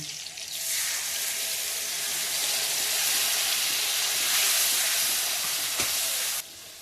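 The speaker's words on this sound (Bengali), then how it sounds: "জিরের গুঁড়ো, লঙ্কার গুঁড়ো আর হলুদ ভিজিয়ে রেখেছিলাম, জলে গুলিয়ে রেখেছিলাম, এটা দিয়ে দিচ্ছি।" A paste of cumin, chili and turmeric mixed in water hits a hot pan and sets off a loud, sustained hiss of steam and sizzling that holds for several seconds, then cuts off sharply near the end.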